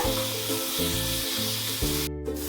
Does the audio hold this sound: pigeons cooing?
no